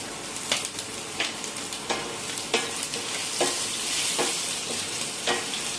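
Whole garam masala, dried red chilies, bay leaves and ginger fry in hot oil with a loud, steady sizzle, while a spatula stirs and scrapes in a regular rhythm about every half second, with no talking.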